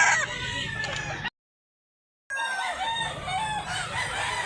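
Roosters crow and chickens cluck at a busy poultry market in Mantalungon, Cebu, with overlapping calls heard up close, broken by a sudden second of total silence before the crowing resumes.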